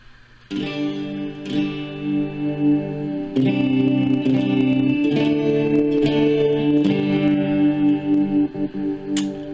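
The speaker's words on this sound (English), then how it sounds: "We can even come over here to the modulation. We'll start at chorus." Electric guitar chords played through the chorus effect of a Boss ME-50 multi-effects pedal, strummed in a slow rhythm with a wide, wavering, slightly swirling tone.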